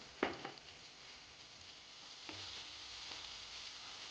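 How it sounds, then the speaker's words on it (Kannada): Tomatoes with salt frying in a pan for an okra fry, a soft steady sizzle with a few faint stirring scrapes, quiet and close, with no talk. "ಟೊಮೆಟೊ ಸ್ವಲ್ಪ ಸ್ಮ್ಯಾಶ್ ಆಗಬೇಕು, ಅಲ್ಲಿವರೆಗೂ ಫ್ರೈ ಮಾಡ್ಕೊಬೇಕು"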